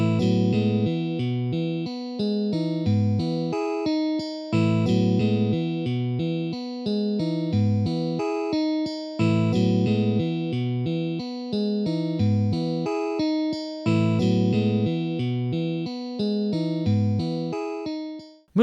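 The clean electric guitar line from a song plays alone, looping arpeggiated notes in a steady repeating pattern at moderate volume, with brief gaps between phrases.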